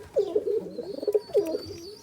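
Pigeons in a racing pigeon loft give two bouts of soft, throaty cooing, close by and fairly loud, with a brief pause between them and no voices.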